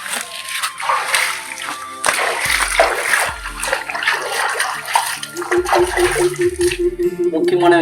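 Water splashes and sloshes nearby as a man washes his face with well water outdoors, in repeated irregular scoops and splatters, with a voice speaking in between.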